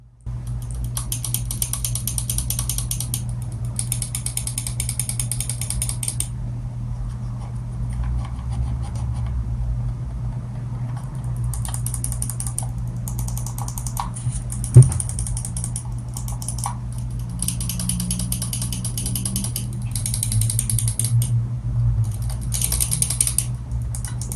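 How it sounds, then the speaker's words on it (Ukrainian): Rapid bursts of small, crisp clicks from a Logitech G Pro X Superlight gaming mouse, in repeated clusters with brief pauses, over a steady low hum. "Давайте перейдемо до звуку мишки. Давайте послухаємо цей звук. Звук кліків."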